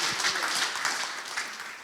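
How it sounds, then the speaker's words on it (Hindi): Church congregation at a Sunday Hindi service clapping to welcome a pastor, a moderate, fairly even round of applause from a roomful of people. "क्यों ना हम सबको जोर से ताली बजा के उसका स्वागत करें"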